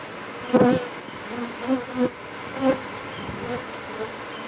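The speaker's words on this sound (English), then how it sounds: "Here's the bees." A steady insect hum of many bees buzzing close by at a tree trap-out entry cone, with a few louder individual bees passing near the microphone.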